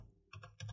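A few quiet keystrokes on a Windows 10 PC or laptop keyboard, two short clusters of clicks close by with nothing else around them.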